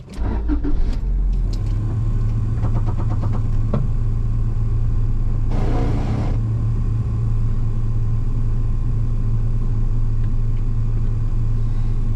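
A Honda Integra with a Mugen front bumper idles with a steady, close engine rumble and low hum as it rolls backwards. A few brief knocks come near the start and a short hiss in the middle.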